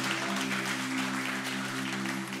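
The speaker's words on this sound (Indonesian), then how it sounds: "Kita berikan tepuk tangan buat Tuhan Yesus yang baik." A church congregation claps together in steady applause, a dense even patter that holds throughout at moderate level with a faint hum underneath and no clear talk.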